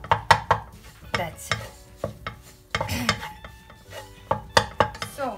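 Potato mixture being stirred in a pan over a very low flame, with repeated scraping and clinking of a utensil against the metal in an uneven rhythm, close and clear, with a soft sizzle beneath and a brief spoken word.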